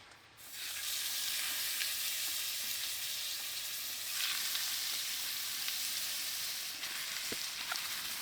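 Chicken fries in hot avocado oil in a pan over a woodfire, a loud, even sizzle that holds steady throughout, close up with no voices.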